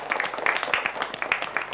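Brief applause in a studio at a high-school quick-answer quiz show, a small group clapping quickly and fairly softly with a few sharper claps standing out.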